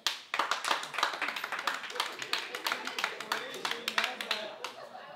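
A stand-up comedy audience claps in a quick, uneven burst, sharp individual claps from a modest crowd standing out clearly, starting abruptly and thinning slightly toward the end, with possible faint voices underneath.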